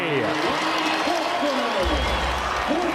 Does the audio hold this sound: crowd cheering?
yes